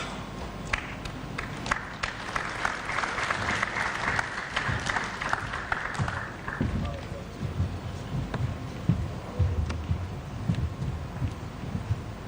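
Delegates at the closing session of an airlines association's annual general assembly applaud the event sponsors. The clapping is a broad wash of moderate loudness that thins into sparser claps, with some background voices underneath.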